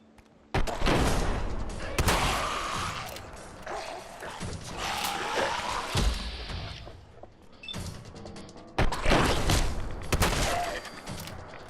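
Bursts of gunfire in the video game Fallout 4 during a fight with feral ghouls, loud sustained volleys with mechanical clatter, a sharp onset and a second heavy burst near the end.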